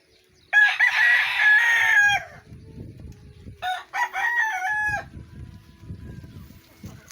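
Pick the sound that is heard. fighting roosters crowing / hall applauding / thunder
fighting roosters crowing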